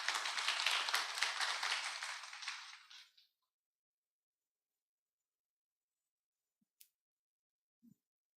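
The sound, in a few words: audience applause at a symposium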